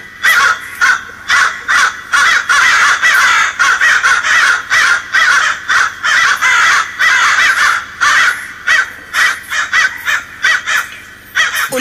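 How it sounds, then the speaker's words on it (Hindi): A crowd of crows caws loudly and continuously around a tower where kites and crows circle, harsh overlapping calls in a rapid, unbroken chorus with no talk. "इसकी वजह से यहाँ पे बहुत सारी चील कौवे"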